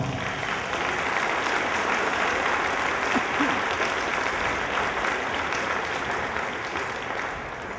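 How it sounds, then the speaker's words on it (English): Dinner-auction fundraiser crowd applauds steadily for several seconds, a broad even patter of many hands that tapers slightly at the end, with faint murmuring underneath. "Give Pal a round of applause."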